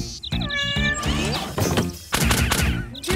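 Several kittens meow in a cartoon, high, repeated cries overlapping in quick bursts with a brief whistling birdlike tone and some thumps, loud and close with no talking.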